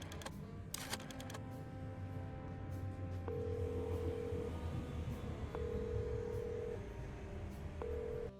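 A phone number is dialed in Chicken Police: a series of short, evenly spaced tones, preceded by a few quick clicks, over a low, steady background hum, with no voices.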